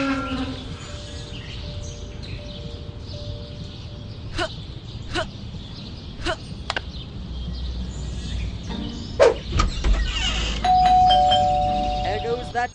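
A doorbell in Scary Teacher 3D rings several times in a quick series of chimes over a continuous game ambience, followed by a louder rumble near the end.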